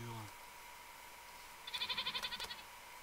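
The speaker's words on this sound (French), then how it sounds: "il y a plein de chèvres en vrai" Goats bleat in a video game, a wavering, pulsing bleat rising over faint background ambience in the second half of the clip.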